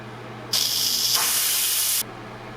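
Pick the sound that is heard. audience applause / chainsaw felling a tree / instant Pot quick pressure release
instant Pot quick pressure release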